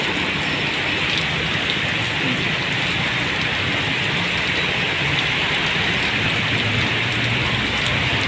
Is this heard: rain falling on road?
yes